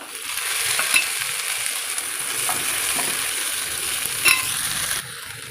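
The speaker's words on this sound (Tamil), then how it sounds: "இப்போ இந்த தக்காளியை போட்டு நல்லா ஃப்ரை பண்ணிக்கலாம்" Tomatoes frying with golden onions in a pan for Tamil chicken kulambu, a loud, even hiss of sizzling with a couple of brief stirring scrapes, then a sudden drop at the end.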